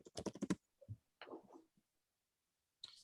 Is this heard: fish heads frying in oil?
no